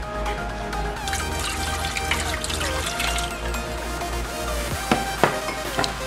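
Water poured into a bowl to start cinnamon roll dough, a steady close trickle and splash running throughout with a low hum underneath and no talking.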